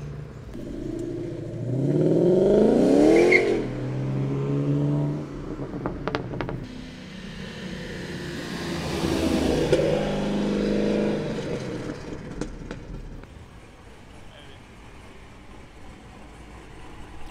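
A powerful Corvette engine roars past at close range at a cars and coffee meet, swelling loudly and fading, then a second surge builds and trails off into quieter rumble.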